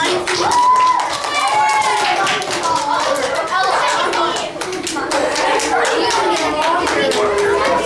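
Children give a round of applause in a classroom, brisk scattered clapping lasting several seconds, mixed with lively kids' chatter and voices close by.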